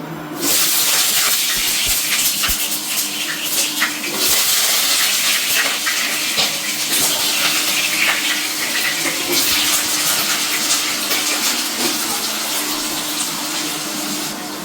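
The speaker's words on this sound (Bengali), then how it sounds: "তো দেখো আমি আলুগুলো তেলে দিয়ে দিয়েছি" Potato pieces fry in hot oil in a kadai wok for a Bengali-style soyabean curry, producing a loud, continuous, even sizzle that fills the whole stretch without a break.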